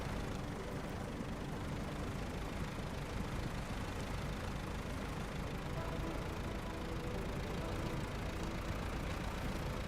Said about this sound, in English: A little 3-cylinder diesel or something.